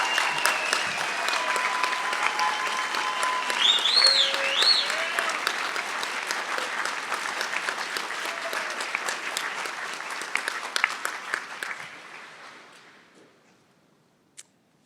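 A large crowd at a spring 2024 commencement ceremony applauds the 2023-2024 graduates, a sustained dense clapping that holds for about twelve seconds, then fades away to near silence.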